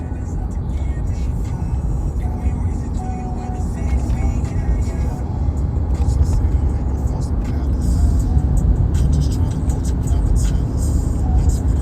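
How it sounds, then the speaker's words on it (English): Steady low road rumble and engine drone heard from inside a slowly moving car, continuous and fairly loud, with a voice speaking over it. "I'm in a car, so it's going slow."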